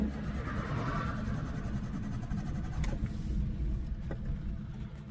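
A Maruti Alto car engine, its tank run completely empty, cranks and rumbles in a steady low drone with faint clicks near the end, loud and close throughout with no talk.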